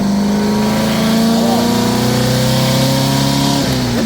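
A 1977 VW Brasília with a short-geared gearbox revs steadily as it accelerates, its engine note rising slowly and continuously, loud and close, with people talking faintly underneath.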